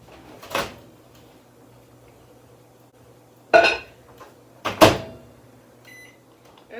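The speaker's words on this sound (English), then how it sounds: "let's microwave these" A microwave door clunks open and shut, followed by handling knocks, with a steady low hum of the oven running underneath.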